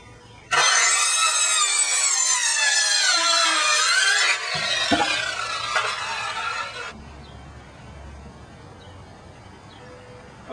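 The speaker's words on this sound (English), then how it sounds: "Got my hand skill saw here." A handheld circular saw cuts through the tops of wooden posts in a single loud, whining pass of a few seconds, then spins down and fades out.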